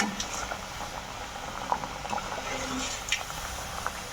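Slices sizzle and bubble in hot oil over a medium gas flame, a continuous soft crackling with small pops, heard alone up close.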